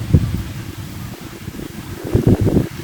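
Strong, dry, cold wind rushes and buffets in the open countryside, rumbling in uneven gusts that rise and fall throughout, with no one talking.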